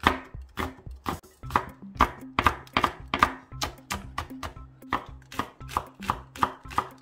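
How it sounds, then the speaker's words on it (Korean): A knife chops Cheongyang chili peppers in a home kitchen, making rapid, close, crisp strokes in an uneven rhythm, with nobody talking over it. "이제 이거는 다 들어가지는 않지만 일단 썰어놓고"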